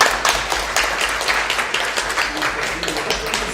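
Audience applause at a bookshop literary talk on fantasy worlds, a dense, steady patter of many hands clapping at moderate volume, continuing without a break throughout.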